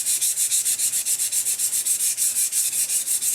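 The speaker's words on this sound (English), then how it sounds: "I'm going to just do a little bit more sanding" Sandpaper is worked over a Craftsman 22-inch self-propelled lawnmower deck in fast, even back-and-forth strokes, a close, bright, hissing rasp repeating steadily without speech.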